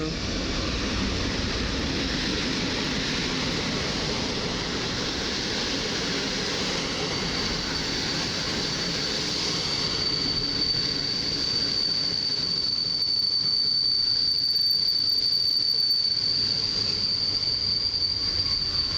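A TLK Kormoran passenger train hauled by an EP07 electric locomotive rolls past close by at a Warszawa Zachodnia platform with a continuous rumbling roar, then a thin, high wheel squeal rises and holds as the noise gradually eases.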